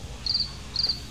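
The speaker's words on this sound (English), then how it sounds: "Crickets." A cricket chirp sound effect, two bright trilling chirps spaced about half a second apart, clear and alone over faint background noise.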